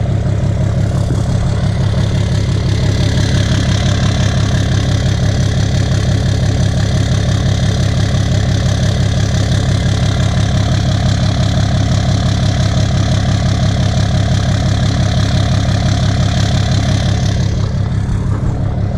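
A 2017 Cummins diesel pickup with a 5-inch straight pipe idles loudly and close by, a deep, droning, unbroken rumble that holds for the whole stretch.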